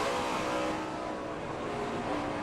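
A NASCAR Cup race car engine at Darlington in 2006 drones loudly and steadily as the driver eases off the throttle, a sustained close mechanical roar with no voices.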